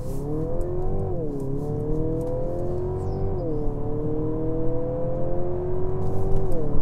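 A Mercedes GLC Coupé engine pulls away on a slip road, a steady rising drone with clear gear-change dips as revs climb, close and continuous with road and wind noise beneath.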